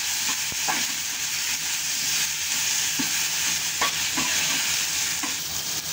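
Large chopped tomatoes soften in a pan for chickpea curry with a loud, continuous sizzle, punctuated by occasional spoon scrapes and taps, no talking.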